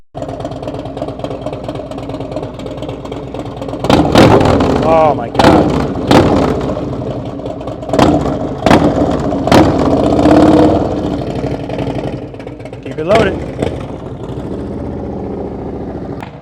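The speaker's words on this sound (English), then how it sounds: "I wanna hear what my bike sounds like for the first time." Motorcycle fitted with a TAB Performance Redline 2-into-1 exhaust, loud and close: a steady idle rumble broken by several sharp throttle blips and revs, with excited voices talking over it.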